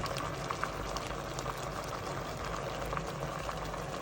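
Paksiw na tuna liquid boils in a covered pot, a steady bubbling simmer with a constant low rumble and scattered small pops, close and continuous with no talking.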